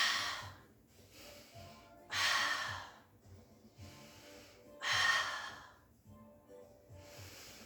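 Deep, audible breaths during a mat Pilates exercise: several soft inhales and exhales, two fuller breaths standing out, quiet and close with no talking.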